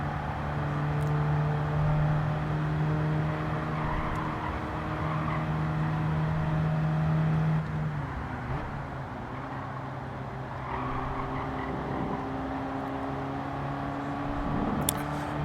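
A Fiat 500 laps the Nürburgring in a Gran Turismo racing game, its engine droning steadily for the whole stretch, with tire squeal and skidding mixed into the continuous, fairly loud car noise.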